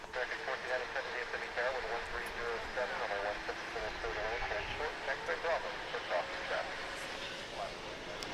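An American airliner in Sunny the collared lizard livery rolls along a runway at Dallas Fort Worth airport, its engine roar distant and faint under steady talking.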